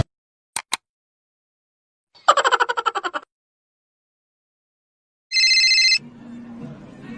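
A phone rings in short electronic bursts, first a pulsing trill and then a steady tone. Clicks and a brief low voice-like sound fall between the rings.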